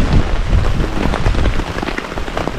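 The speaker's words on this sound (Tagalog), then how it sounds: "Lakas ng ulan" Heavy rain pounds a tarp at a mountain campsite on a multi-day hike on Mt. Mantalingahan in Palawan, a loud dense patter close by and unbroken throughout.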